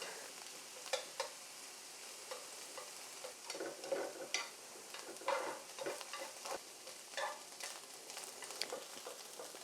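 Chinese sausage stir-fried in a pan with little oil, giving a steady close crackle and sizzle broken by scraping stirs throughout, with no talking.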